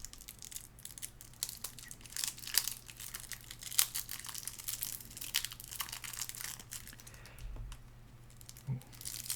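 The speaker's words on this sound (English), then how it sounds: "Ooh, this plastic just kind of shreds itself, huh?" Plastic wrap around a Magic: The Gathering Arcane Maelstrom Commander preconstructed deck crinkles and tears as it is opened, close-up crackling and shredding in irregular bursts with no talk.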